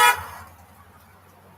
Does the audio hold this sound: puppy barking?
no